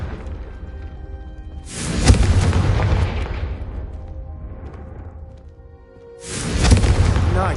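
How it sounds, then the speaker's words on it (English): A Confringo spell explosion in the video game Hogwarts Legacy, two booming blasts a few seconds apart, each with a sudden loud burst and a rumbling decay. "I think you'll find that a Confringo cast travels a bit farther than that of a spell like Incendiary"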